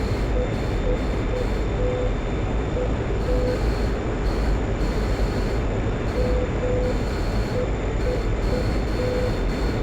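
A portable air conditioner drones with a constant buzzing whir throughout, loud and unchanging, with no other clear sound above it.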